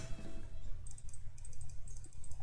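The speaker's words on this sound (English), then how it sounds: "I hope my clicking isn't too loud." Soft mouse or keyboard clicks tapped out in irregular bursts while playing a visual novel game, faint and close over a low background hum.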